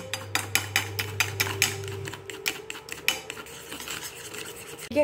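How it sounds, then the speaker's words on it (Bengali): Cornflour batter whisked in a bowl, quick rhythmic scraping strokes in a steady series of sharp rasps, close and clear with no speech. "শুধু কর্নফ্লাওয়ারটাও গুলতে পারো। এটাকে ভালো করে একটু গুলে নেবো।"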